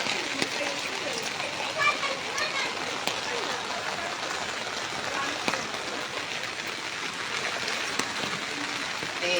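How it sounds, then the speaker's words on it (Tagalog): Steady, heavy rain pours down without letup during a typhoon in the Philippines, a dense, even wash of water noise lasting throughout at a constant level. "dire-diretso kasi yung ulan"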